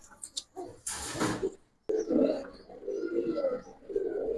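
Giribaz pigeons give soft, low cooing calls close by, a few rolling coos after a brief burst of noise, fairly quiet against a faint background.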